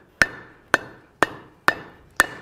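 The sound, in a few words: hammer striking metal chunks on anvil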